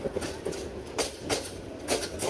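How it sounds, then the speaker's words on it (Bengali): The Bijoy Express passenger train rolls into Gouripur Junction, loud and close, with rhythmic clickety-clack wheel beats on the rails repeating about every half second over a steady rumble. "গৌরীপুর জংশনে প্রবেশ করছে বিজয় এক্সপ্রেস ট্রেন"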